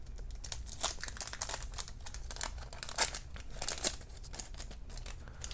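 A 1982 Donruss wax pack is ripped open up close, with continuous crinkling and tearing of the wrapper in quick, busy bursts at a moderate level.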